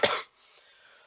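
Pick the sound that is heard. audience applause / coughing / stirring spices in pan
coughing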